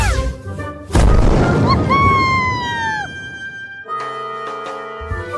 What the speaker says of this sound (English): They throw their magic into the sky. Boom! A beautiful blast.